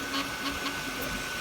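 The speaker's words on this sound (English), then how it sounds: "it's printing, but what a racket" Anycubic Kobra 3 3D printer running a print in a back room, giving off a loud, steady mechanical racket with a sustained hum and faint rhythmic pulses, alone with no talking.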